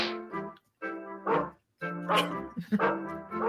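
A dog barks and yips in a 1991 animated film, The Christmas Tree, in a series of loud, bright, tonal calls with short gaps between them, close and clear over soft background sound.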